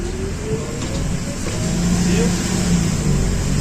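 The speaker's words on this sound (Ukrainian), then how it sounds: "Так, наш автобус сьогодні навіть раніше." A Rome city bus arrives with a steady, loud engine drone and a rising whine as it pulls in close, under constant street noise and some talk.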